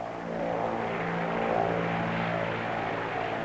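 A crippled propeller airplane in flight drones with a steady, loud engine hum that holds for the whole stretch with slight swells, and no voices are heard.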